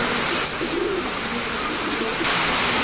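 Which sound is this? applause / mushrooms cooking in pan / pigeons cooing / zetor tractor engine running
pigeons cooing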